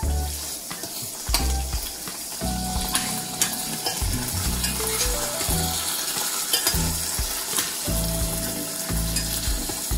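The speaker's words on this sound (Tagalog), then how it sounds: "So guys, nigisa natin alamang." Shrimp paste (alamang) sautéing in oil in a pan, with loud steady sizzling and frying crackle and occasional scraping stirs throughout, no voices.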